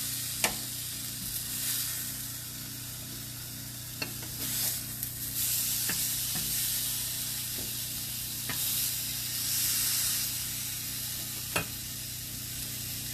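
Fish pan-searing in olive oil hisses with a steady, close sizzle, punctuated by occasional sharp clinks and brief bursts of louder spitting, with no talking over it.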